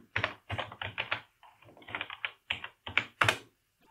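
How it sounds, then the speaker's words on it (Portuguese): Someone types a password on a computer keyboard: a close series of about a dozen crisp key clicks in quick irregular bursts, ending with a firmer final press. "então vou digitar a senha e dar um Enter"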